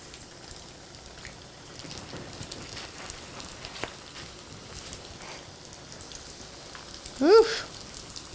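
Chicken egg rolls frying in hot oil, a steady soft crackle and sizzle like light rain running throughout, with a brief louder squeal-like sound near the end.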